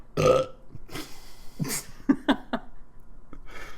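Several loud, close burps come in quick succession, the first long and rumbling and the later ones shorter and choppier, with bits of breathing between them.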